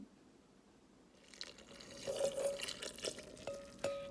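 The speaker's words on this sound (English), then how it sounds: "I'm going to pour everything that's in the small bowl, the water and the food dye, into the large bowl." Water mixed with green food dye pours from a small bowl into a larger bowl, a soft trickling splash that starts after a quiet moment and runs close up with a few drips.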